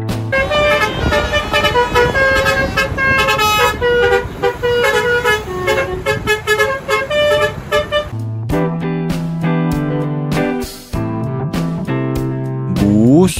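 SJM Trans Batosai bus sounding its telolet horn, loud near melodic honking in a fast playful tune, shifting to a different, lower melody partway through, with no talk over it.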